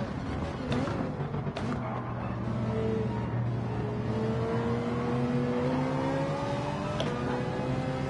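A Ferrari race car engine in Gran Turismo 7, driven from the cockpit view, revs in a steady rising drone with other cars nearby in the pack, played at a moderate level with no talk.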